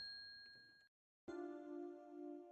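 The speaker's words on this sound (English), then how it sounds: "The bell of the general store chime as you cross the threshold." A shop doorbell rings at a general store in the video game Scarlet Hollow: one bright chime strikes after a brief silence and keeps ringing steadily. Faint tones sound before it.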